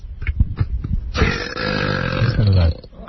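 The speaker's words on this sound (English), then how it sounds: "Let me hear one of your burps." A man lets out one long, loud, drawn-out burp in a radio studio setting, following some brief vocal noises.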